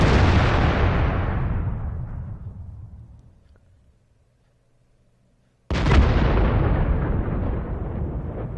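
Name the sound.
tank shell hit explosion in a tank video game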